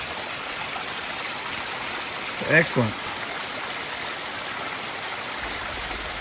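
A small stream flows steadily along the Appalachian Trail near Rock Gap, with a continuous rushing, trickling wash close by. A voice speaks one short word briefly over it.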